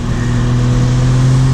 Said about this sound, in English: I rolled the windows down just so you can hear a little bit more of that turbo noise